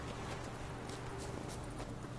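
Horse hooves clip-clopping in the video game Witcher 3, a steady walking rhythm under a dense, noisy game soundscape.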